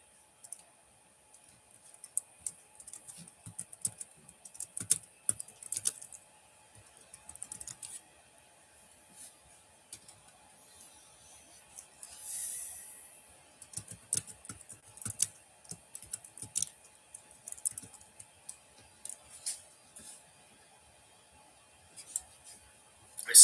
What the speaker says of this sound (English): let me just quickly type in what kind of hard drives.